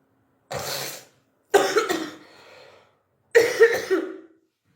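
Three separate bursts of coughing from one person during an allergy attack brought on by dust, close and fairly loud, with the second burst trailing off into a rougher, throat-clearing rasp.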